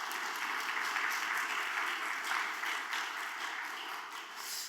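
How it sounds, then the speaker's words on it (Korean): A congregation claps steadily during a Sunday worship service at Jisan Church in Bucheon, blessing a church deaconess after her surgery; the applause is moderately distant and fades slightly near the end. "박명순 권사님 축복하고 격려하는 박수 하도록 하겠습니다"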